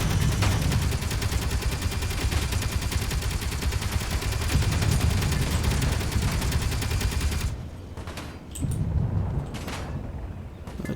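Rapid automatic turret gunfire from a Space Engineers enemy base, a dense, loud, continuous burst of fire that suddenly cuts out, leaving quieter scattered shots and rumble.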